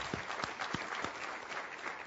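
Steady applause from a crowd fills the whole moment, dense clapping at an even level with a few sharper claps standing out.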